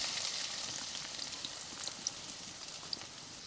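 Chopped garlic sizzles in hot oil in a pan, a steady hiss of frying with occasional small pops and crackles throughout, close and fairly quiet.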